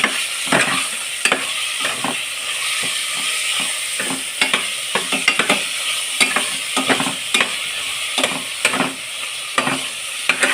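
Ground meat frying in a pan until golden brown, loud continuous sizzle with frequent rhythmic scrapes and taps of a spatula stirring it close by.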